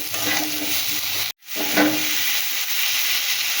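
Cauliflower sizzles continuously in a pan with turmeric and salt, a steady close hiss of frying that drops out for a moment before resuming.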